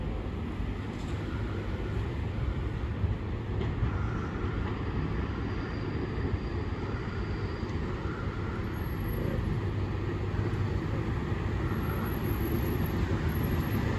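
A Network Rail diesel train, a Class 73 hauling a rail service, passes through Deal railway station with a steady, heavy low engine rumble and rolling noise that holds throughout, close and loud.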